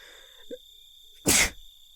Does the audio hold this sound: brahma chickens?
no